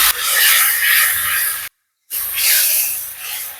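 Water is splashed into a hot karai of half-fried onions with turmeric and chili powder, setting off a loud, close, hissing sizzle that cuts out briefly and then resumes.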